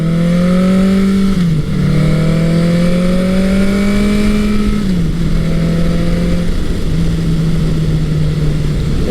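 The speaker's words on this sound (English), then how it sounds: "It sounds nice when you get on the throttle, but this Mack exhaust really does, once you have it in the higher gears, it quiets right down." A vintage Honda CB900C or Suzuki GS1100L motorcycle with an aftermarket Mack exhaust, loud and close while riding, the engine note climbing through gears with pitch drops at each shift and steady wind rush.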